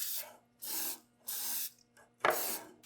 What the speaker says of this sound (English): So I'm gonna use this spray we have here and really get it greased up nice.